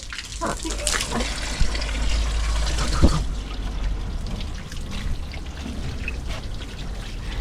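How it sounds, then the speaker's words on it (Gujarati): Water pours and splashes steadily while a car is washed outdoors, with faint voices now and then under the running water. "ગાડી ધોવાની છે"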